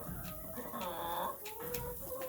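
Several hens cluck nearby in drawn-out, warbling calls, with quick sharp clucks cutting in now and then over a low outdoor hum.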